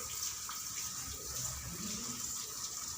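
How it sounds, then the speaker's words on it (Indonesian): Water runs steadily from a tap for hand washing, a close, continuous splashing stream that holds evenly from start to finish. "Kemudian hidupkan keran,"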